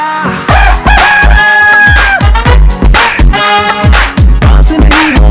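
A loud rooster crow rises and holds over a punchy, rhythmic music beat, with the drawn-out call cutting through the heavy bass thumps.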